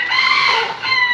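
Broiler chickens cluck loudly and close at hand in a brief, dense burst of overlapping calls at a 4-H poultry weigh-in.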